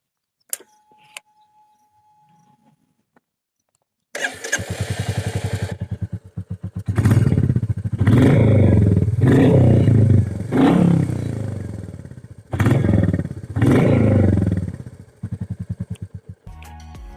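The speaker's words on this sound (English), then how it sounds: "It sounds more refined and more thumpy" A 2021 Royal Enfield Classic 350 Reborn motorcycle starts after a few seconds of near silence, then settles into a loud, close, thumping exhaust note, revved in several bursts.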